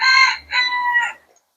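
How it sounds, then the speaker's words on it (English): A rooster crows once, a loud, clear two-part call close by, then falls silent. "listening to the rooster crow."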